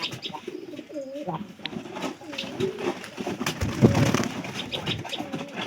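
Pigeons cooing close by in a loft on a foggy morning, several soft rolling coos overlapping with light fluttering and background murmur, and a voice briefly audible among them.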